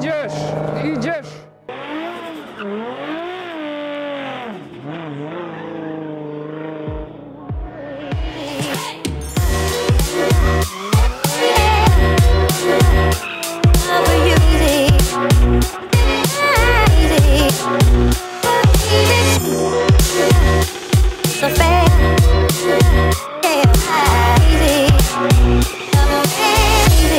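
A drift car at a competition event revs hard and squeals its tires continuously, loud and close with rapid throttle blips and screeching, while a Polish-speaking commentator talks excitedly throughout.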